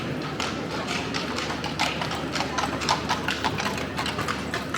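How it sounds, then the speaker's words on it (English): Horse-drawn carriages roll along a Vienna street near St. Stephen's Cathedral, hooves clip-clopping in quick, overlapping rhythms, fairly close and loud over a busy street hum, with no talk. "A lot of horse-drawn carriages going down the street."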